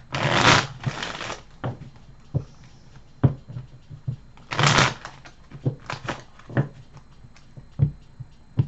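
Cards are riffled and bridged several times in quick bursts, each a crisp rapid flutter, followed by lighter taps and slaps as the deck is squared.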